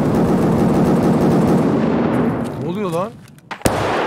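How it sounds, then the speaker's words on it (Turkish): Gunfire rattles in the Escape from Tarkov shooter during a Dorms raid, a loud sustained barrage in the first seconds under someone speaking, then fading before a sharp single crack near the end. "Bana sıkıyorlar."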